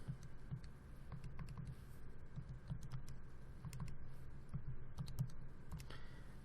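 A calculator keypad is tapped in quick, light key presses, close and fairly quiet, a steady run of clicks over a low background.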